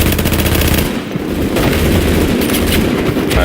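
Video game gunfire, loud and close, rattles in rapid repeated bursts that run almost continuously for the whole stretch, with a brief dip near the start and no talking.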